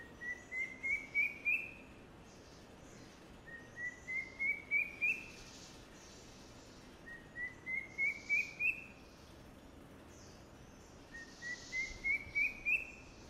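Common hawk cuckoo or drongo cuckoo calling, four clear bursts of rapid whistled notes, each series climbing in pitch, spaced apart over a faint insect hum.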